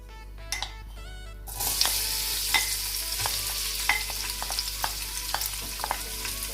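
Onions hit hot ghee in a pan and start frying. A quiet moment is followed by a sudden steady sizzle with sharp clicks of stirring, close and moderately loud, and no talk.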